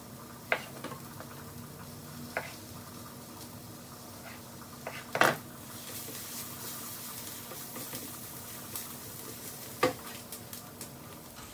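Pureed peppers and garlic cooking down in a pan for stuffed peppers give a faint, steady sizzle, broken by a few sharp clinks and stirring knocks.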